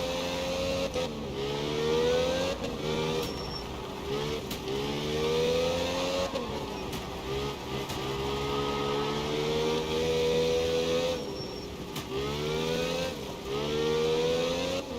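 A Group 4 rear-wheel-drive rally car engine on a night gravel stage in Sardinia in a racing game, revving hard through repeated gear changes, pitch climbing and dropping in a steady rhythm, loud and close with no talk.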